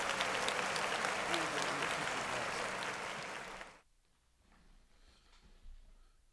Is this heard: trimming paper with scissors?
no